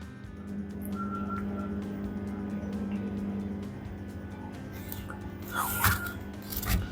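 An LG top-loader washing machine spinning up with a steady motor hum and whir that holds throughout, with a couple of louder clunks near the end.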